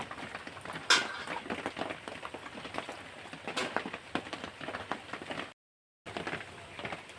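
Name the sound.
water poured over hot cooked banana blossom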